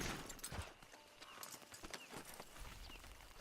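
Horse hooves clip-clopping at an unhurried walking pace in the video game Red Dead Redemption Online, quiet and somewhat distant, with faint background noise.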